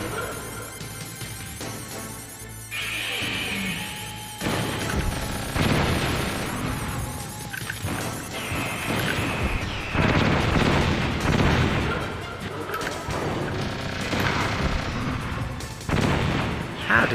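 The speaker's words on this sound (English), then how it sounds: "Next thing, stinger missile." Stinger missile fired and detonating in the video game Metal Gear Solid: a sequence of loud booming launches and blasts with a rushing roar between them, repeated several times over a dense, noisy battle soundscape.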